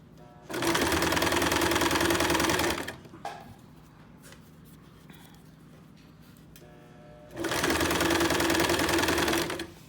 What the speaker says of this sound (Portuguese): Agora eu vou bater 2 costuras nas alças.